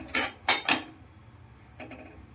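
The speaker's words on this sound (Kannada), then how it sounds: "ಇವಾಗ ಬಾಣಲೆಗೆ ಕೊತ್ತಂಬರಿ ಬೀಜ ಆ್ಯಡ್ ಮಾಡ್ಕೊಂಡಿದ್ದೇನೆ." Coriander seeds tipped into a dry pan for roasting a Mangalorean prawn ghee roast masala, giving three quick rattling clatters close by, then a faint scrape and near quiet.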